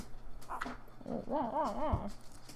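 Young puppies make whimpering, squeaky, growly vocalizations in a quick run of rising and falling yips, close and fairly clear, with no talk over them.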